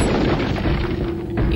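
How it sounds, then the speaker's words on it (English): Gunshot from a Resident Evil 4 video game, fired to clear an obstacle out of the way, heard as a loud, dense boom that fills the whole short moment with no talking. "I'm shooting it out of the way"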